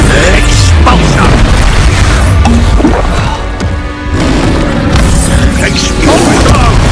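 Expulso spell blasts in Hogwarts Legacy, with repeated loud booming explosions and crashing debris, while a voice shouts spell names over the combat.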